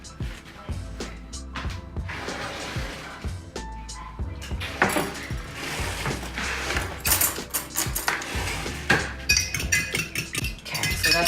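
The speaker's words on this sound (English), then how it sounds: "And I need to whisk that together." Metal whisk beating a spicy sauce with a tablespoon of rice vinegar for Bang Bang chicken, with rapid, busy clinks and scrapes against the bowl continuing steadily and fairly close.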